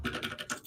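Computer keyboard typing while coding, a quick run of soft clicks and clacks heard close and fairly quiet, with no talking.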